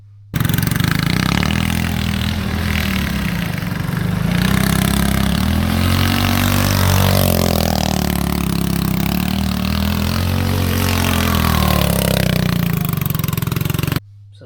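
A go-kart engine awaiting repair of a broken fuel tank bracket and kill switch runs steadily up close, a loud, continuous rough putter with slight rises and dips in pitch, heard alone for about fourteen seconds before cutting off.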